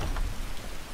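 Steady storm rain in the video game Skyrim, a dense continuous hiss of falling water filling the short moment without any voices.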